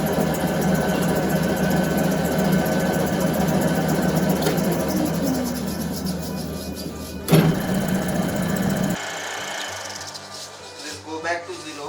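A lathe cutting a 60 degree V thread while the cross slide feeds the tool in, giving a steady mid-pitched mechanical drone and whir. It runs evenly for most of the clip, then drops after a brief knock into quieter rattling.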